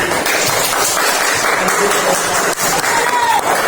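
Schoolchildren in a classroom applaud a high-achieving group with a burst of crowded, uneven clapping, close and loud for a few seconds, with some voices mixed in.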